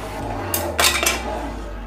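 Sweet corn tipped into a pot for maja blanca, a few quick clinks and rattles of kernels and utensil against the metal in one short burst, close and alone.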